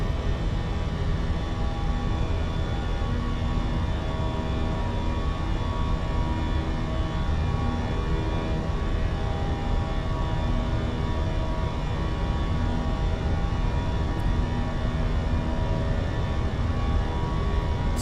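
Airbus A321 engines at climb thrust in the Fenix flight simulator: a steady, loud, unbroken drone that stays even throughout, with no talking.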